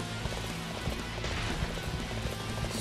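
A horse gallops in Dynasty Warriors 8 Empires on PS4, with rapid, steady hoofbeats over dense game music and effects from start to finish.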